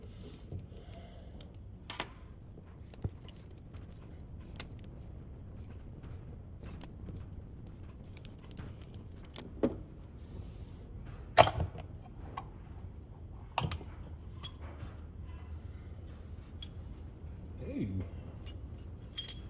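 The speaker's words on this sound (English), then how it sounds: "Take these 4 screws out, get the top and bottom halves separated." Screws being removed from a Marvel-Schebler TSX695 carburetor off a Massey Ferguson 65 tractor, scattered small metallic clicks and ticks spread irregularly through the clip over a low steady background hum, with no talk.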